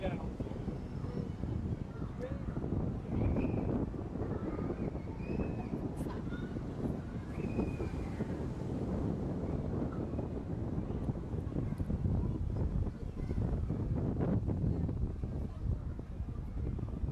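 Steady wind buffets the microphone in a continuous low rumble during a tuk tuk ride in Lisbon, with a faint engine drone and occasional murmured voices underneath.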